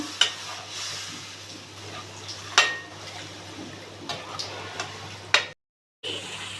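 Chicken liver curry is stirred in a pan, a soft continuous scraping and gentle sizzle broken by a few sharp clinks of the spoon against metal, with a brief dropout near the end.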